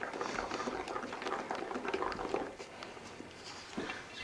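Wet, sticky stirring as flour is worked into sticky bun dough, giving a continuous squelching, bubbling texture with small clicks, close and moderately loud, and no voices.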